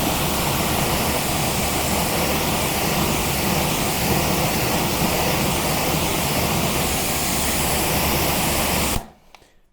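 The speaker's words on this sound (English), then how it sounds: "When cleaning wheels, the first thing you need to do is give them a good rinse." Water hose spraying car wheels hisses in a loud, steady, broadband rush for about nine seconds, close to the ear, before cutting off abruptly into near quiet.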